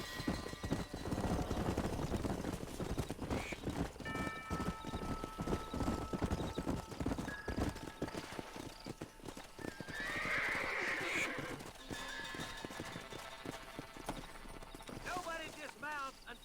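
Horses ridden at a steady trot in Red Dead Redemption, rhythmic hoof clip-clops with a whinny, spoken dialogue over the hooves, then the hoofbeats fade toward the end.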